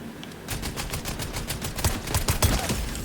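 Rapid gunfire in a video game shooter, a loud burst of repeated shots firing in quick regular succession, growing denser toward the end.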